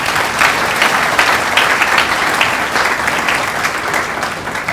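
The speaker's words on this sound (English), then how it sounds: "Let's give our President a round of applause." Sustained applause from a university matriculation ceremony audience honouring the President, dense and even clapping from a large crowd that continues loudly throughout with no speech.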